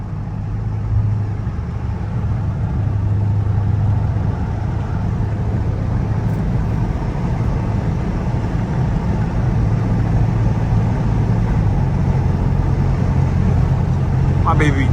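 A Dodge Scat Pack's engine and exhaust at night give a steady, loud, low rumble that holds evenly throughout, heard from inside the car with the windows down.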